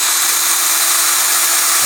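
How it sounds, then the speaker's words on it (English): Power drill boring into a broken bolt stuck in a deep, recessed hole, a loud steady high whine that holds unbroken throughout. "now my purpose is to drill in this broken bolt away in there"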